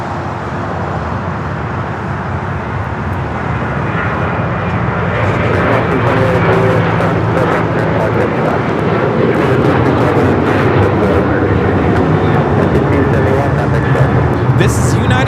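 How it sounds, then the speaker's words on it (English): A United Airlines Boeing 737-900ER jet takes off at LAX, heard as a broad, steady engine roar that swells in the second half. People talk over it throughout. "This is United Airlines 1571 taking off to Houston Intercontinental on the 737-900ER."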